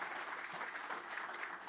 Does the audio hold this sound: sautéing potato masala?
no